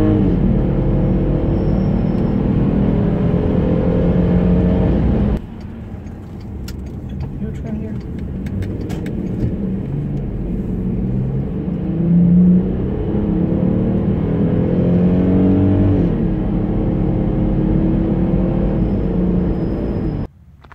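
A 2006 Volkswagen Touareg with the VR6 engine accelerates, its deep engine rumble building close and loud, dropping sharply at a gear shift, then climbing again. Talk runs over the engine throughout.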